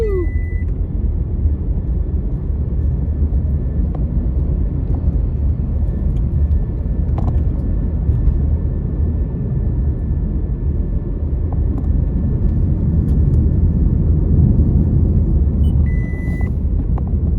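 Steady low rumble inside a moving car, continuous road and engine noise throughout, with a faint beep and someone talking over it.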